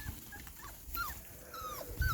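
Young puppies out for their first time outdoors whimper softly, with thin high whines scattered over faint background noise and a low thump near the end.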